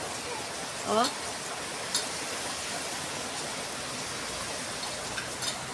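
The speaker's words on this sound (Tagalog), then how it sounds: "Lakas ng ulan." Heavy rain pours steadily outside a home on a stormy Sunday morning, a dense even hiss throughout with a few brief drips and clinks, while a voice makes a short exclamation.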